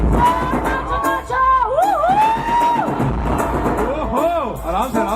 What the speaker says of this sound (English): Some clapping.